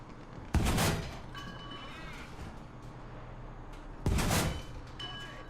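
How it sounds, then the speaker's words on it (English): Two heavy booming cannon shots from an enemy tank in War Thunder, spaced a few seconds apart, each with a long rumbling tail over steady engine noise. "This guy's firing at me again"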